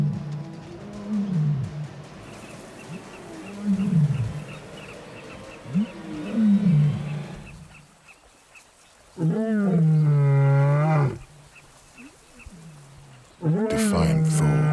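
Wild male lions, young nomad males in a river valley, roaring: repeated deep, drawn-out roars with echoing grunts, some distant and some close and loud, carrying and reverberating down the valley.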